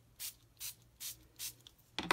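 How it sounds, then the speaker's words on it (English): A hand spritzer mists water onto Brusho watercolor powder on photo paper in four evenly spaced short hissing sprays, close and clear, with a faint tap at the end. "now I'm going to get my spritzer again, and I'm going to spray"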